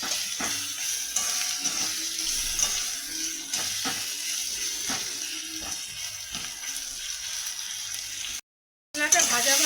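A spice mixture for vegetarian coconut chickpea ghugni is stir-fried in a pan, with repeated rhythmic scraping strokes of a spatula over a soft sizzle, near and moderately loud, briefly cutting out near the end.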